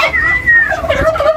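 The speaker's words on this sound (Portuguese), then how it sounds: "É uma peru, então." A single loud, close turkey gobble, a quick warbling call falling in pitch, heard on its own.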